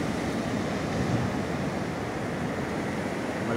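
Strong ocean surf at a private beach resort in San Juan, La Union, heard as a continuous, fairly loud rushing roar of breaking water with no distinct lulls and no one speaking.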